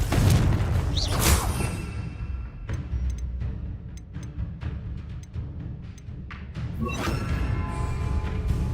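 Spell explosions in Hogwarts Legacy combat, loud booms and thuds with swishing bursts and a run of quick sharp impacts between them, no talking.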